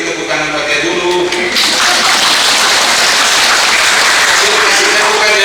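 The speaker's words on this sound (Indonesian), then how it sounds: "Kita beri tepuk tangan buat dia dulu." Audience applause for a guest introduced at an Indonesian-language talk, a dense wash of clapping that swells loud after a brief quieter start and holds steady to the end.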